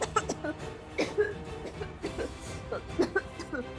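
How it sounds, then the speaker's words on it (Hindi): A person in a Hindi TV drama coughs repeatedly in short bursts, fairly close and moderately loud, with brief pauses between coughs and no talking. "मुंह पे हाथ रख के खांसो।"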